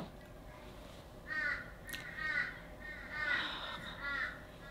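Crows caw outdoors in a few separate harsh, repeated bursts at a moderate distance, over a steady background hiss.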